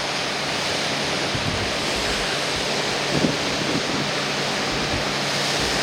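Steady broadband rush of sea waves and wind seen from the deck of the Norwegian Epic cruise ship, a continuous wash with a brief louder swell partway through.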